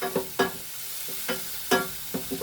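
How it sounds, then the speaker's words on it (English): Onions frying in melted butter in a pan give a steady sizzle broken by several sharp clattering stirs, close and fairly loud, with no voices. "these onions are cooking a lot faster than"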